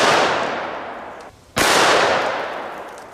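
Two loud, close shots from a Smith & Wesson Model 629 .44 Magnum revolver with a 6.5-inch barrel firing 300-grain jacketed hollow points, each a sharp blast with a long ringing decay, spaced about a second and a half apart.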